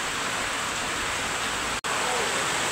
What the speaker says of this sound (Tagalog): malakas po ang ulan ngayon. Naulan oh. Naulan po dito po ngayon sa Sariaya, Quezon